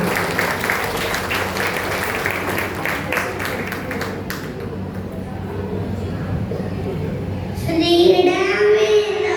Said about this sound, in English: let's welcome on them on the stage with a big round of applause